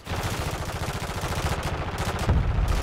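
Gunfire in Call of Duty, with a steady drumming of rapid shots through the whole stretch and a heavier, louder burst near the end; close and dense, with no talking.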